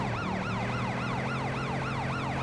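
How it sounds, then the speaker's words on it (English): Police car sirens in the video game Driv3r on PS2: a loud, continuous wailing siren that sweeps up and down in steady repeated cycles over a constant engine hum. "Put these sirens on here."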